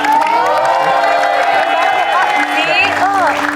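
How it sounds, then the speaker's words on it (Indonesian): Loud studio audience on an Indonesian dating game show clapping, cheering and whooping, with high shrill voices rising over a continuous roar of crowd noise throughout. "tepuk tangan dong"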